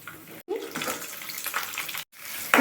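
Mustard seeds, cumin, split lentils, chillies and curry leaves fry in hot oil with a steady, loud, close sizzling hiss that stops briefly twice and then comes back.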